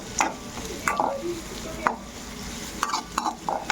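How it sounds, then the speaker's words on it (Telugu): Onions, green chilies, curry leaves and tempering spices fry in a kadai for egg rice, giving a low steady sizzle with several sharp spatula scrapes and stirs up close. "కళాయి తీసుకొని అందులోట ఆనియన్స్, పచ్చిమిర్చి, కరివేపాకు, తాలింపు దినుసులు అన్నీ వేసుకొని ఇలా ఫ్రై చేసుకోవాలన్నమాట"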